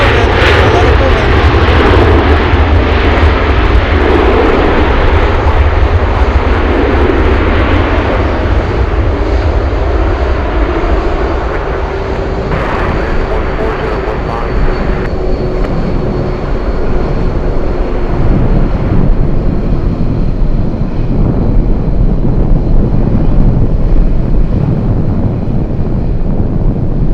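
Kalitta cargo jet taxiing or rolling at Anchorage airport in gusty wind, a loud, steady engine roar with wind buffeting the microphone, a faint tonal whine emerging midway as the sound drifts and thins toward the end.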